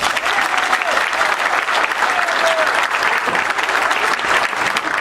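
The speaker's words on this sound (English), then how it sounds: "I'll give him one more round of applause." Sustained applause from a conference audience fills the room at a steady, loud level, a dense wash of clapping with some crowd murmur underneath.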